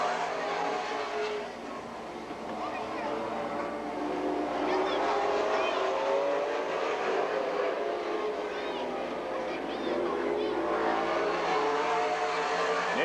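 Race cars roar around the oval at Golden Sands Speedway in Wisconsin Rapids during a Wisconsin Challenge Series race, engines droning and swelling as the pack passes, loud and continuous under announcer commentary.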